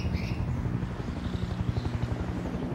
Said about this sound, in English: Helo inbound from your 6-3-1.